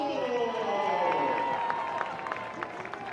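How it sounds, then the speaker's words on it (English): A crowd at a 2024 ACC men's college soccer match, Notre Dame vs. Syracuse, reacts to the announcement of a Syracuse goal with scattered clapping and murmuring cheers, moderately distant, while someone talks over it. "Crowd responds to the announcement of the Threadgold goal in the 60th minute."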